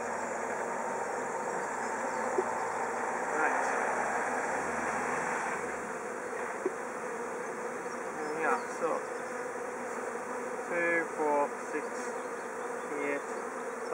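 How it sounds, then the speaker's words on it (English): Honey bees buzz steadily around an open hive during frame work, a dense continuous drone with outdoor background hiss throughout and a few brief clicks of handling. "Come on, bees, out my way."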